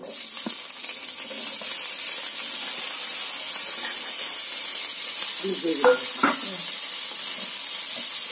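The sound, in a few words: snails added to hot oil, frying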